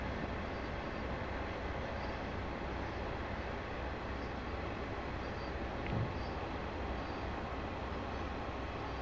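A British Rail Class 40 diesel on a GWR route in Train Sim World 2 gives a steady, moderately quiet rumble that stays constant throughout, with no talking.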